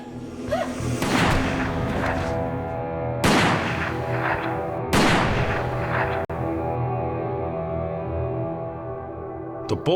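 Gunshots in a crime reenactment: three loud, close, booming shots spaced a couple of seconds apart, each leaving a ringing decay over a sustained dramatic music bed.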